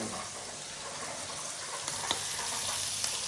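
Small prawns (kolambi) fry in a pan with a steady, bright sizzle that holds level throughout, broken by a couple of faint clicks near the end.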